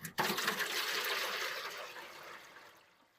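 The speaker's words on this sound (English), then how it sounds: "to this pan, I'm going to add a couple of liters of water" A couple of liters of water is poured into a grill pan that sits beneath the cooking grates, making a steady rushing, splashing pour that starts abruptly, stays loud and close for about three seconds, then tapers off.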